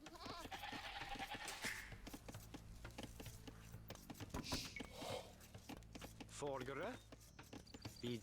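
Sheep bleating in a real-time strategy game, Age of Empires, on the Arabia map: quiet wavering game bleats amid clicks and soft unit sounds, while a voice keeps talking over them.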